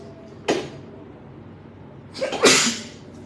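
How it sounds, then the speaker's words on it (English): Two sneezes, the first a short sharp burst and the second louder and fuller with a quick inhaled lead-in, close by in a quiet room. "Excuse me, I need to sneeze."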